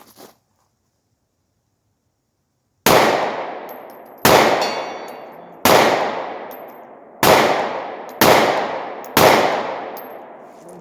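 Six sharp G43 rifle shots at a small steel target 65 yards away, each crack ringing off in a decaying tail, spaced about one to one and a half seconds apart after a quiet start, with no talking.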